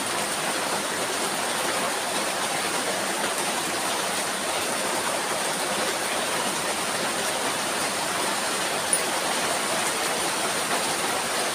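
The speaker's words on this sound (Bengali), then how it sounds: "দেখো প্রচণ্ডভাবে বৃষ্টি হচ্ছে।" Heavy rain pours down in an unbroken, even hiss that fills the whole stretch at a constant level, with no voices heard.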